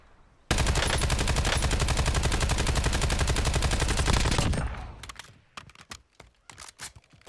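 A sustained burst of rapid automatic gunfire in Warzone roars continuously for about four seconds, loud and close, then cuts off into scattered fainter shots and clicks.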